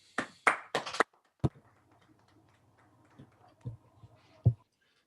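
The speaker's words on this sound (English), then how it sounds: "Let's unmute and clap for a very nice talk" An online audience unmutes to clap after a physics talk: a few scattered, uneven claps at the start, then isolated faint taps and clicks over a quiet background.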